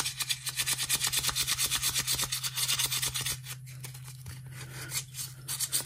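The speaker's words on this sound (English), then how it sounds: "All this is 400 grit sandpaper." A USMC knife is rubbed with 400 grit sandpaper in steady back-and-forth rasping strokes, close and fairly loud, with a constant low hum beneath and a few brief pauses near the end.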